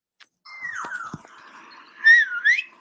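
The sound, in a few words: person whistling to imitate and call birds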